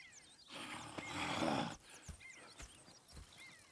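A horse in Red Dead Redemption 2 lets out a loud whinnying neigh lasting over a second, followed by softer snorts and faint hoof clops nearby.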